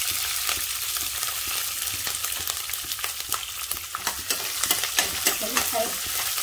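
Onions, green chillies and other ingredients for raw mango rice fry in a pan, crackling and sizzling steadily close up, with scraping and tapping from a stirring spoon scattered throughout.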